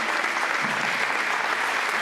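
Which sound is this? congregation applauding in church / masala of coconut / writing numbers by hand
congregation applauding in church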